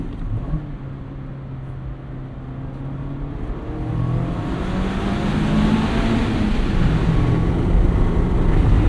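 Stock exhaust of a 2026 Mazda MX-5 Miata RF with a 6-speed manual, heard from inside during a hard acceleration pull on an open road, engine note climbing steadily and growing louder as revs rise, no talking.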